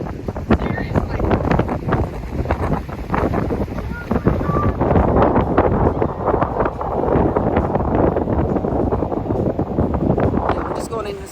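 Strong wind gusting across Green Point Beach near Marrawah, Tasmania, beside sand dunes, a loud continuous broadband roar with buffeting against the microphone, steady throughout with no speech.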